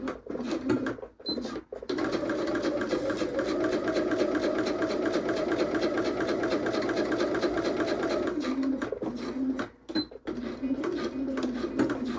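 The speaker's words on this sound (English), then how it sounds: "So I'm going to sew 1/8 of an inch below the bottom card slot." A sewing machine runs a steady, close stitching line across a raw-edge fabric card wallet just below the bottom card slot, humming continuously with brief pauses and clicks near the start and end.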